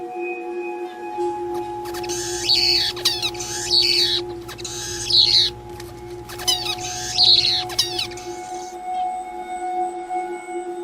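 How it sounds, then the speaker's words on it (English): An isolated male finch raised in a soundproofed cage utters a harsh, croaking song in several short raspy bursts over a steady low hum, with close, moderate loudness. "Kept in isolation in specially soundproofed cages, their song developed to no more than a croak."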